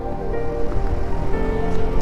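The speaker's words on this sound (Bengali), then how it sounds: "সমুদ্রের গর্জনটা জাস্ট শোনো তো গাইস" Sea waves at Digha roar in a loud, continuous low rumble of surf with a wash of breaking water, filling the whole moment without pause.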